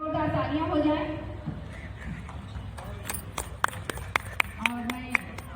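At a book launch, someone speaks and then a few sharp, scattered claps ring out from the audience, sparse and close, over low room noise.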